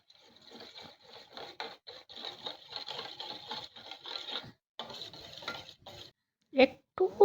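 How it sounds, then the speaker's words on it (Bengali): Sour curd whisked in a bowl with salt and pepper added, a quick rhythmic tapping and scraping of the whisk close up, steady for several seconds before pausing, then a few louder knocks at the end. "এবার আমি টক দইটা ফেটিয়ে নিচ্ছি"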